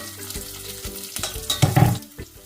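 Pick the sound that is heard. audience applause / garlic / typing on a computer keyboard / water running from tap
garlic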